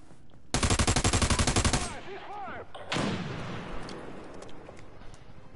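Rapid automatic gunfire in a video game, a loud burst of evenly spaced shots followed by a second heavier blast and rumbling echo, with faint game effects between.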